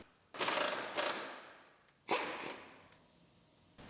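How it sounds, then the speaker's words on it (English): Seat bolts being fastened in a 2015 Chevrolet Silverado LTZ truck, with two close mechanical clicking, ratcheting bursts, each followed by a fading metallic ring. "Bolt the seat down."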